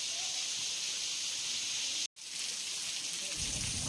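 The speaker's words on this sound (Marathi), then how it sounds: "भरपूर पाऊस लागलेला आहे, न थांबणारा पाऊस आहे हा" Heavy, unceasing monsoon rain at the mouth of a cave on Aasaawa Fort, a dense loud hiss of downpour filling the scene steadily with a brief cut midway, no speech.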